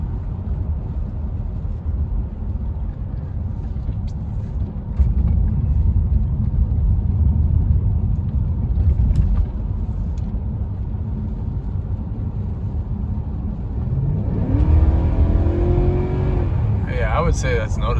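Mercedes E420 V8 engine after an LH module swap, a loud continuous low rumble from inside the car that swells as it accelerates, with a voice speaking briefly near the end.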